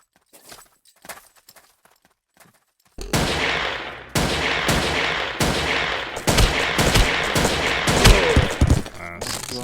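Gunfire in the Ace of Spades video game bursts in after a few quiet seconds of faint talk, then continues as loud, rapid automatic shooting in sustained runs.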